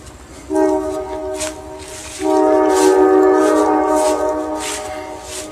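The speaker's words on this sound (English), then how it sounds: "you get these trains moving slow through the yards" A train rolls slowly through a rail yard in Conneaut, Ohio, its horn sounding in long sustained tonal blasts over steady rumbling, fairly near and loud, with faint clanks between.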